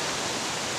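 Daranak Falls, a waterfall near a hanging bridge over a wide river, gives a steady broadband rush of falling water, even and fairly faint, with no voices.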